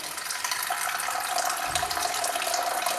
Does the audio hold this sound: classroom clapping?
no